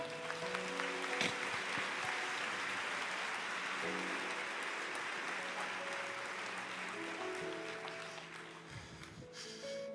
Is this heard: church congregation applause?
yes